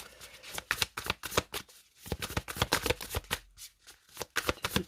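Tarot cards are shuffled close up in a quiet room, a rapid series of crisp flicking riffles and soft slaps with brief pauses between passes.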